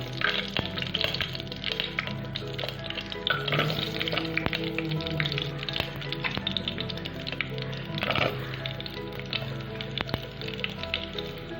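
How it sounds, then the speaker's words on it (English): Potatoes frying in ghee in a pot over a slow fire, a steady soft sizzle with scattered crackles and occasional stirring clatter, close and continuous throughout. "Take 1 tablespoon of ghee and first fry these potatoes on slow fire."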